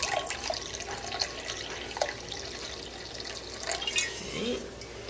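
Room-temperature water running from a tap into a measuring cup, a soft, uneven trickle and splash lasting several seconds, fairly quiet and close, with faint kitchen clatter behind it.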